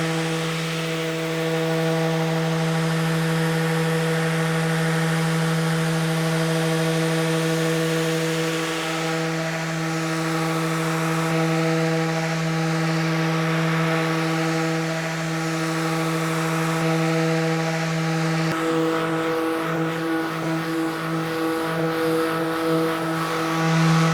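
A wooden cutting board getting its edges sanded, a steady, loud power sander drone with a strong tonal hum throughout, its pitch and texture shifting near the end as it works the wood.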